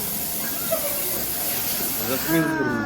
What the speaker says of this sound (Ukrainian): дуже голосно включили кавомашину